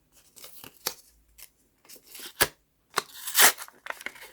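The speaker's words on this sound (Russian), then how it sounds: "Далее вот такой вот пакет. Я распакую, наверное," A surprise package bag is opened by hand with crisp rustling, tearing and crinkling of plastic or paper, coming in several close, uneven bursts with brief pauses between them, and no voices.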